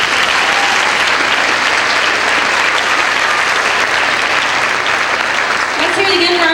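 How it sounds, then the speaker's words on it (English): Thick, continuous crowd applause at a scholarship pageant, loud and steady throughout with no break, a voice briefly audible near the end. "Let's have a round of applause to thank them."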